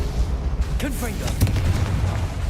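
Confringo, the blasting spell in Hogwarts Legacy, goes off amid whooshing, chirping spell sounds, ending in a booming burst. A voice talks over the action.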